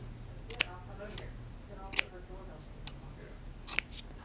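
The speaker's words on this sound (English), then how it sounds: "Let's see how it actually cuts hair." Barber shears snip through hair in a few sharp, isolated cuts spaced about a second apart, close and fairly quiet against a low background hum.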